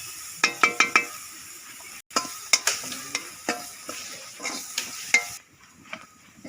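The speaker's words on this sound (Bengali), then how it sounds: "এখানে সব বয়েল করা চিকেন আছে, ভেজিটেবল, রসুন, বাঁধাকপি সব দিয়ে একটু ভেজে নিচ্ছি এগুলো।" Boiled chicken, vegetables, garlic and cabbage fry in a pan with a soft sizzle while a utensil clinks and scrapes against the metal in irregular bursts, close and fairly quiet.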